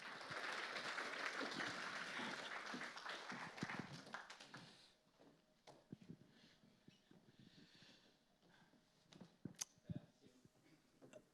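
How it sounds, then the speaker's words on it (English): An audience at a live e-commerce finance panel event gives a round of applause, dense and steady for about five seconds before fading out into a quiet room with scattered small taps. "Give them a round of applause."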